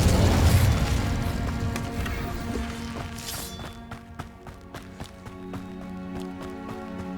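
An Incendio fire spell bursts loudly in Hogwarts Legacy, a whooshing flare that fades over a few seconds into quieter footsteps and clip-clop sounds.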